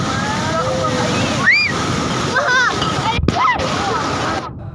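Tidal flood water surges against fishermen's coastal houses on the Strait of Malacca shore in Lhokseumawe, a loud continuous churning slosh with splashing bursts, while a voice speaks over it.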